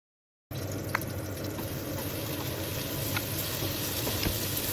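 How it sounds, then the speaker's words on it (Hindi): Chopped pav bhaji vegetables hit melted ghee in a pressure cooker and give a steady, close hiss of sizzling that starts suddenly after a short silence and holds even throughout, with a few faint clinks. "जैसे ही घी पिघल जाए, कुकर में कटी हुई सारी सब्जियां डाल दें।"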